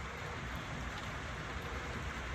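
Faint, steady rain falls as an even hiss on a mild day while pigeons wait out in it, with no other distinct sounds.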